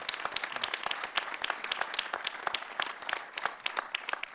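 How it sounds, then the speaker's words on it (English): Audience applause for county council members at a budget address, a steady dense patter of many hands clapping at moderate distance, continuous throughout without voices. "And let's all have a round of applause for our county council members."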